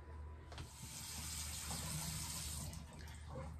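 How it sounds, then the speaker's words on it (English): Tap water runs steadily into a bathroom sink while someone washes their face, a continuous close hiss and splash with faint shifting as hands move through the stream. "I'm just going to go ahead and wash my face"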